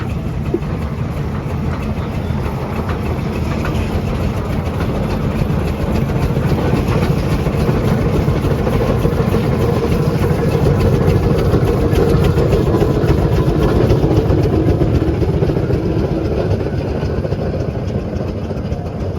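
A vintage engine runs steadily and loudly at a steam rally, a continuous close mechanical chugging with a dense rhythmic beat and no talk over it.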